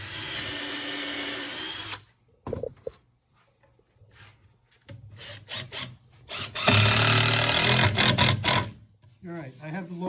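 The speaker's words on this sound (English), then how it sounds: "drill the second hole." Bursts of a power drill boring holes in wood while assembling an Adirondack chair, starting and stopping several times, with brief speech between runs and some clattering.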